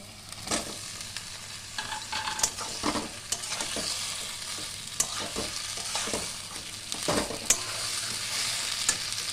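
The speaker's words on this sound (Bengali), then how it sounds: "আমি ভেজে রাখা সবজিগুলো এবার সব দিয়ে দেবো" Fried vegetables sizzle in a pan with mustard while a spatula stirs them, giving repeated scraping clicks over a constant frying hiss, fairly close and with no voices.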